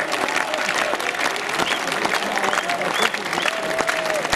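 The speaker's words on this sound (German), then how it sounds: "Ja, und häufiges rhythmisches Klatschen" A festival concert crowd at a jazz event claps steadily and loudly, a thick continuous wall of applause with scattered voices and faint tonal calls rising within it.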